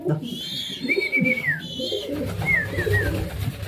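Pigeons coo in soft repeated phrases, with several brief calls close by over a low background murmur.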